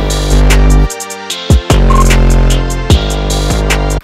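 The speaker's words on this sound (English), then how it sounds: "So you can add sausage fattener to make your 808s beefier." Loud, heavily distorted 808 bass notes thicken a trap beat through Sausage Fattener distortion, sliding and gliding between pitches under rapid hi-hats and punchy drum hits, dense and continuous with no talk.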